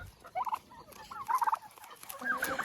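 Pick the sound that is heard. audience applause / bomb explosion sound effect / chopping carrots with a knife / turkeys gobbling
turkeys gobbling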